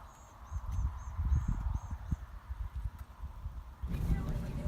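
Horse hooves walk during groundwork training, a run of soft, irregular thuds close by with faint bird chirps above, then a burst of broadband rustle near the end.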